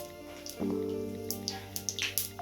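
Mustard seeds crackle in hot coconut oil, a few sharp scattered pops over a low steady hum, quiet and close.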